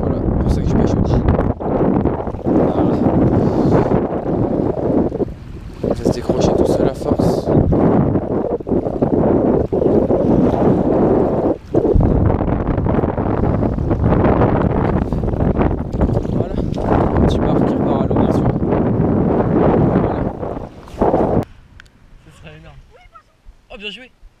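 Strong wind gusts and rushing air across the microphone on a boat at sea during jig fishing for bass, sustained and loud over nearly the whole stretch, with people talking throughout before the wind drops near the end.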